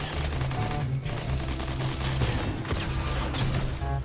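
Gunfire in the video game Fortnite, dense rapid bursts of shots and booms in continuous, loud, closely spaced volleys with brief gaps.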